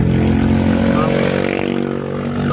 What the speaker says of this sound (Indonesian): kencang sekali suara motor ini.